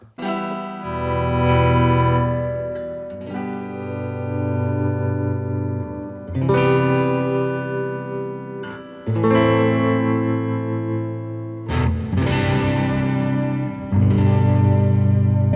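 Distorted electric guitar chords ring out through a Yamaha THR10 amp with hall reverb, each strike swelling and trailing into a long, roomy reverb tail, played several times.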